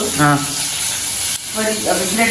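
Onions and whole eggplant frying in oil for a kulambu, a steady close hiss of sizzling oil with faint voices murmuring beneath it.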